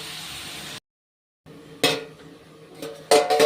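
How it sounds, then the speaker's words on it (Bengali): A metal lid lifted off a covered cooking pot of simmering ash gourd, with a short silence then a few clanking metal knocks and scrapes, loud and close. "এটা ঢেকে দিয়েছিলাম, ঢাকাটা খুলছি।"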